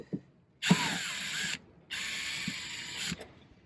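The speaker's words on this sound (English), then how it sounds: "Next, I'm going to remove these little push pins." Plastic push pins are pried out of a Dodge Grand Caravan's front end during a strut replacement, giving two scraping, ratcheting bursts about a second long with a click at the start, close and fairly quiet.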